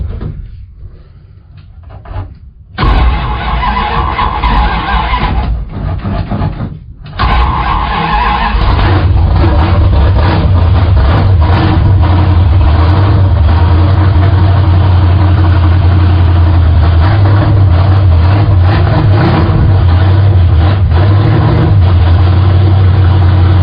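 A car engine roars loudly and close by, with scraping and knocking noises at the start. It then settles into a steady, heavy drone with no voices over it.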